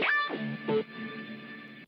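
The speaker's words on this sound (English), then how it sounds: "Then I have this transition sound." A short synth transition built in Serum with EQ and a little echo gives a boingy, pitch-bending electronic tone that swoops and wobbles, then holds a sustained bright note before cutting off.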